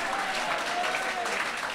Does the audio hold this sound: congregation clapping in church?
yes